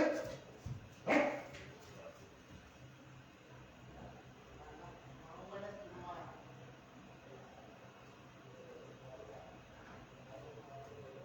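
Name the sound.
dogs barking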